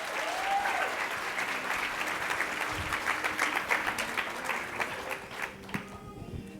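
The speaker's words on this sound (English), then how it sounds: "Let's give them a round of applause." A crowd at an innovation funding event applauds steadily and fairly loudly for several seconds, the clapping thinning out toward the end.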